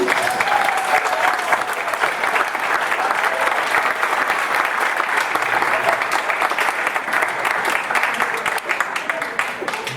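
Steady, dense applause from an audience at an evening school event, many hands clapping evenly for the full stretch with faint voices underneath.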